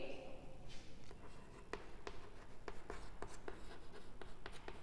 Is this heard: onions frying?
no